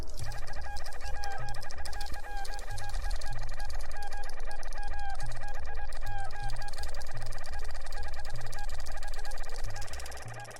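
Looping chiptune-style game music from Secret of Evermore, with bird-like squawks, steady and loud throughout, matching the chicken god scene's fowl sounds mixed into a dense melodic track.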